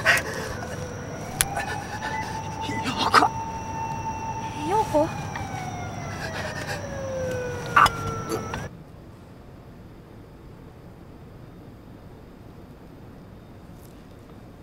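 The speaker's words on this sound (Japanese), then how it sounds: "救急車？ 救急車？" A wailing ambulance siren rises and falls under a brief spoken question, then cuts off abruptly, leaving a faint quiet hiss.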